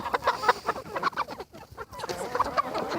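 On a farm, a rooster and several chickens cluck in short, repeated bursts at close range, an irregular, busy pattern of calls with no one speaking.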